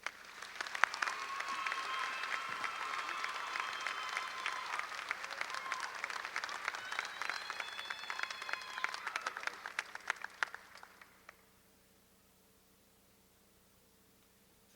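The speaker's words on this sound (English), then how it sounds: "So please join me in congratulating our university medalist, Nicole Mills, with a round of applause." A large commencement audience at a university graduation applauds in a long, dense burst of clapping, with some cheering audible through it, then the sound cuts off abruptly into near silence for the final few seconds.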